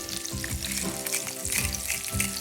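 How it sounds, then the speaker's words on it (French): Cheese-topped pieces fry cheese side down in a skillet with a close, continuous crackling sizzle and small bubbling pops throughout, no talking. "Puis, je les mets dans le poêlon, côté fromage. Jusqu'à temps que le fromage soit bien fondu"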